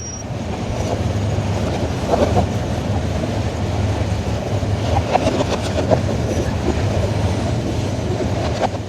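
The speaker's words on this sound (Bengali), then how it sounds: "আর এখন আবার ট্রেনটা এখান থেকেই কিন্তু পথযাত্রা শুরু করবে" A local train departs Dhaka Cantonment railway station with a steady, loud rumble and rattling wheels, plus occasional metallic clicks and clacks over the tracks. No voices.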